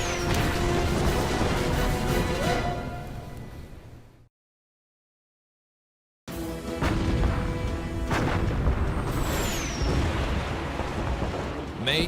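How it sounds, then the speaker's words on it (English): Naval artillery from the battleships Bismarck and HMS Hood booms in heavy, rumbling blasts with crashing impacts, dense and loud, broken by a stretch of silence before the barrage resumes. "the German battleship Bismarck and heavy cruiser Prince Eugen, exchange fire with the pride of the British Navy, HMS Hood and Prince of Wales"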